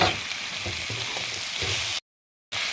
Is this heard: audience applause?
no